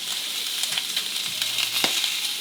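A steak sizzles hard in a hot pan, giving a steady, loud hiss of frying with faint crackles and pops spread all through it, heard close with no talking.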